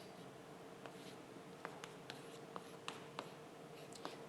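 Chalk or marker strokes on a board during a mathematics lecture: faint, scattered taps and short scratches over a quiet room hiss, with no talking.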